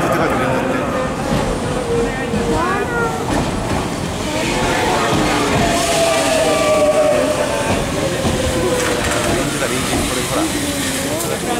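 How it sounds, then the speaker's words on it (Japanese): A Tokyu 7700 series electric train rolls past close by on the Tamagawa/Ikegami line with a steady rumble, clattering wheels and a high electric whine, while voices talk over it. "電車が速いね"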